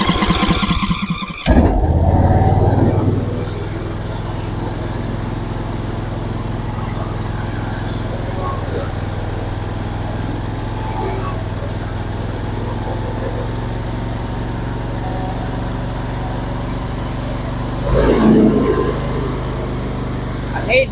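A John Deere LA150 lawn tractor engine fitted with a Chinese replacement carburetor starts with a loud burst, then runs at a steady, close idle hum, rising briefly again near the end.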